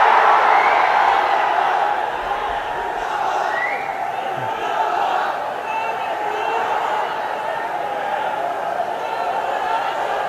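A large crowd at a political rally in Darussalam keeps up a dense, continuous roar of voices with occasional shouts rising out of it, as if chanting slogans.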